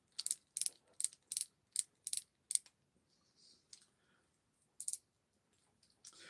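Ratchet joints on a NECA action figure click as the limbs are moved, a quick run of about seven crisp close clicks followed by a pause and a few more isolated clicks, with no talking.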